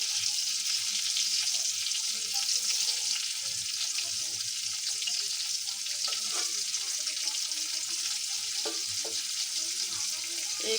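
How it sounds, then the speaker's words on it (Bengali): Chicken pieces deep-fry in hot oil, a steady close crackling sizzle with small pops and occasional light clatter of a utensil. "আমি ডুবো তেলে ভাজবো।"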